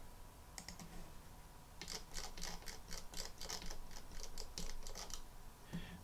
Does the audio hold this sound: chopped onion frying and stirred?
no